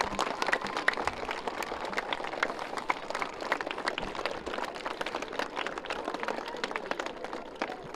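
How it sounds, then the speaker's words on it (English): Outdoor crowd at an American Legion freedom walk applauding veterans, a dense steady patter of many hands clapping at close to moderate distance, sustained evenly for several seconds with no talk over it. "Put your hands together for our veterans."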